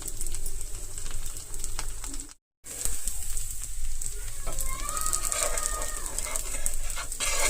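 Pesarattu, a green gram crepe, frying on a pan over medium flame, giving a continuous close hissing sizzle with one brief silent break, and no talk.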